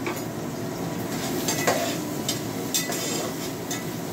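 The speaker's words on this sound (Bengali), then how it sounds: "দিয়ে দিলাম পেঁয়াজ রসুনটা" Onion and garlic go into a hot pan for khichuri and sizzle steadily, while a utensil stirs and scrapes with occasional metallic clinks against the pan. No voices are heard.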